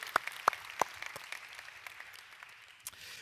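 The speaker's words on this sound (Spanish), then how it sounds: "Por lo menos algunos aplaudieron." A church congregation applauds sparsely, with a few scattered, faint claps spread across a few seconds in a quiet room.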